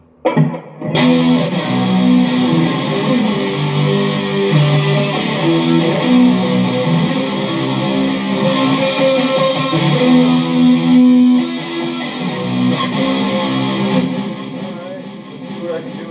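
A Stratocaster electric guitar fitted with Seymour Duncan pickups plays through distortion during a practice session, a thick, sustained driven tone with chords and notes ringing continuously for about fourteen seconds, loud and alone before cutting off near the end.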